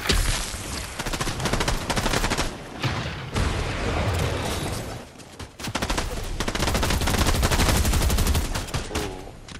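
SMG fire in Fortnite, rapid close bursts of automatic gunfire crackling almost continuously, with brief pauses between strings of shots.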